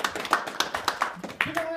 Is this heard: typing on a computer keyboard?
no